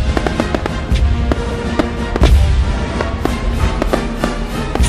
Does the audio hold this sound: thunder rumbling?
no